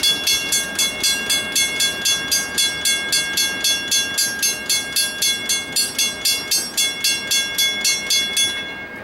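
A Norfolk Southern freight train led by a GP38 locomotive rolls past in the mountains. Loud, steady rhythmic clacking of wheels over rail joints sits above a constant rumble, with a high sustained tone throughout and no talk.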